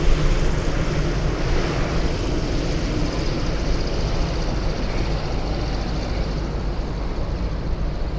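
Boeing 747 jet engines at Anchorage airport, a steady broadband roar that holds evenly loud throughout with a gusty, wind-like hiss over it and no talk.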